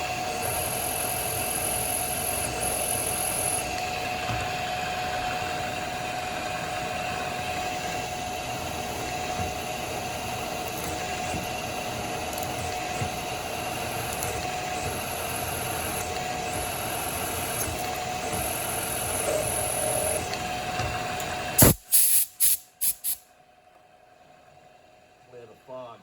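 A machine drilling a 6-inch 1018 steel hub runs as a steady, even drone for about twenty seconds, then cuts off into a few sharp knocks and near silence.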